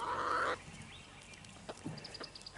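An Americana rooster lets out a short, loud, harmonic call at the start, then only faint scratchy yard noises and soft clucks follow at a distance.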